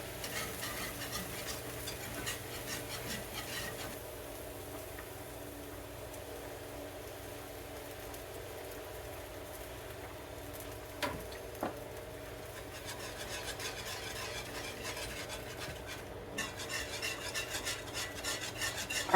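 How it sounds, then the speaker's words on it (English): Flour and pasta water whisked together in a pan, a steady close scraping and rasping that runs the whole time with a couple of sharper clinks partway through. "And whisk this all together well"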